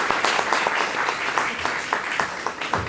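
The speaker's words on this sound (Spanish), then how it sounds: "Un aplauso para el doctor Romero." A forum audience applauds a speaker, a steady crowd clapping with sharp individual claps standing out, sustained and moderately loud throughout.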